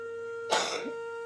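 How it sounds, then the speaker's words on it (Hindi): A single harsh cough or throat-clear bursts out once, close and fairly loud over a steady background hum, fading quickly into quiet. "आपका भी खांसी हो रही सर"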